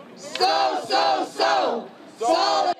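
Striking workers at a rally chant in unison, a loud, close crowd shouting four rhythmic two-part calls with short pauses between them.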